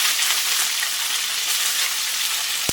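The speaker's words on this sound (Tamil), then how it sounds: "இந்த கருவாடை போட்டு ஒரு வதக்கணும்" Dried fish frying in oil in a pan for a bottle gourd and dried fish curry, a steady close sizzle that crackles throughout without pause, with no talking.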